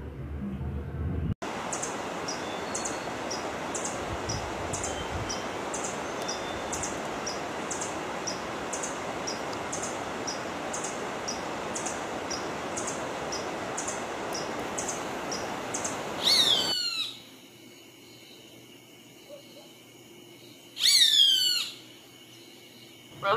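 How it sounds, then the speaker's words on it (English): A resplendent quetzal calls in two short, separate bursts of sharp, descending notes, each following a long stretch of steady hiss and quiet background. "Resplandent Quetzal."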